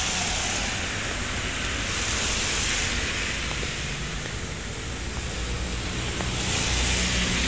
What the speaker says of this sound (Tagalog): Maingay lang ang sasakyan sa background.